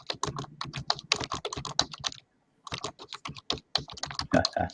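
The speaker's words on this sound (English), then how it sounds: "I could hear somebody typing like a motherfucker" Someone typing quickly on a computer keyboard nearby, with a dense run of fast clicky keystrokes, a brief pause, then another burst of rapid typing.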